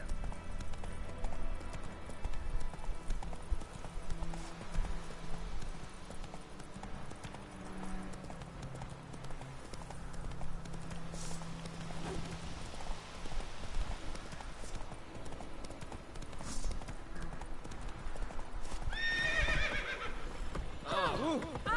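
A horse in The Witcher 3 gallops with steady rhythmic hoofbeats over game music and ambience, and a whinny rises near the end.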